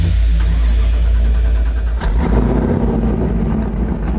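Ford Ranger pickup truck with an LSX V8 swap running on a test track, a loud, close, deep engine rumble that stays steady with a brief dip partway through, no voices.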